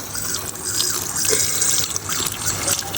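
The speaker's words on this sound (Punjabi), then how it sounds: "ਪਾਣੀ ਪਾ ਦਈਏ ਇੱਕ ਵਾਰੀ" Water being poured, a splashing, dripping trickle with small irregular bursts, close by, running steadily with no talk over it.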